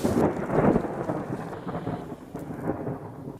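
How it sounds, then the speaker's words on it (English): Thunder rolls through the Colombian jungle, a loud rumbling burst at the start that fades into softer grumbles over steady rain. "as you can hear, it's been thundering, which means it's going to start pouring down in a second."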